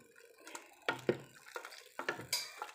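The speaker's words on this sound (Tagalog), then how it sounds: "So I will mix here my labni" Labneh is mixed in a bowl for a simple Arabic meat dish. A spoon scrapes and clinks against the bowl in a few sharp, uneven taps, close by and fairly quiet.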